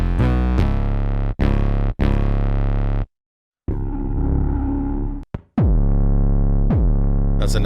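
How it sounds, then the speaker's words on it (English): A heavy, distorted 808 bass from a tape-style instrument plays long, booming sustained notes with rich buzzing overtones. It breaks into short stabs, briefly cuts to silence and glides between pitches. "That's a nice 808 right there."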